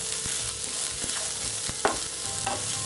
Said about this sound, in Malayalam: ഇപ്പോൾ നന്നായിട്ട് വഴറ്റിക്കഴിഞ്ഞ് ഒന്ന് സവാളയെല്ലാം ഒന്ന് ട്രാൻസ്പെറൻ്റ് ആയിട്ട് വരണം.